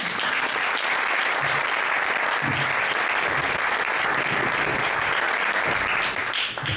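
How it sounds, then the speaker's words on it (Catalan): An audience at an award ceremony applauds for a construction site manager being honoured, sustained dense clapping filling the hall at an even level throughout, with faint murmurs beneath. "en Pep Brasó, és per aplaudiment."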